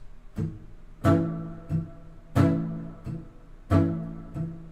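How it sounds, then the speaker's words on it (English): Palm-muted acoustic guitar chords in A strummed in a steady rhythm, accented on beats 2 and 4, with heavier accented hits alternating with lighter, choked strums, close and clear. "Then we get into the pre-chorus, and I'm palm muting the whole thing"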